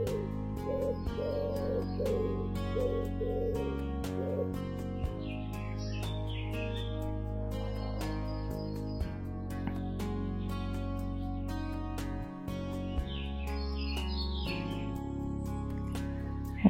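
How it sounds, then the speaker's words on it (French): Turtle doves and small birds call outdoors on a calm morning, scattered high chirps and soft cooing drifting in at a distance beneath a steady musical drone. "tourterelles."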